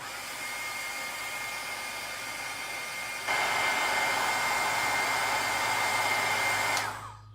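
A heat gun blows steadily as it melts embossing powder on stamped words, a constant airy roar that steps up louder partway through, then cuts off near the end.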